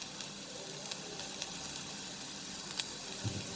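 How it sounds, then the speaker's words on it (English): Chopped ginger and garlic sizzle quietly in a tablespoon of hot oil, a soft steady crackle with scattered light pops and a faint stirring scrape near the end. "I have heated 1 tablespoon of oil and I am going to add the chopped ginger and garlic"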